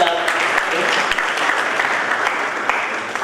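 An audience at the International Mathematical Olympiad 2023 ceremony applauding, a dense, sustained round of clapping from a large crowd that carries evenly and starts to fade near the end.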